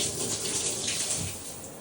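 A steady, hissing spray of water onto a Ming Aralia houseplant runs continuously at close range, broad and even with no pauses or voices.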